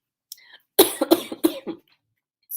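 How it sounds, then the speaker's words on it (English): A person with a lingering post-COVID cough gives a short throat-clearing sound and then a run of three or four harsh, close coughs in quick succession. "If you guys hear me cough a lot"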